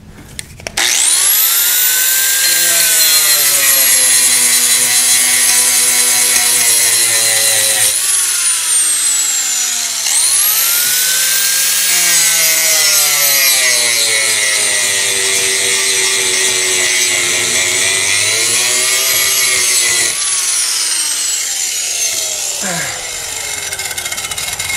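Power grinder sanding an arcade cabinet, a loud, harsh, sustained whine that dips and rises in pitch in three long passes as the tool loads and frees, close and continuous.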